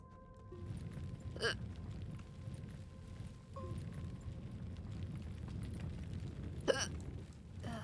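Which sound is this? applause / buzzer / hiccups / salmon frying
hiccups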